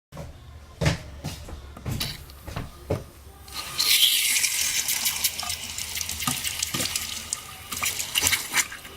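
Water from a repaired main gushes from a household tap after a few clunks and knocks, a loud, hissing rush that starts abruptly and keeps running, sputtering from air in the lines.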